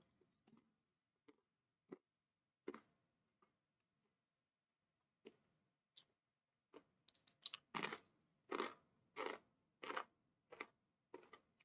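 Crunchy chewing close to the microphone, starting as sparse isolated crunches that build into a rapid run of loud, crisp bites, with no talking.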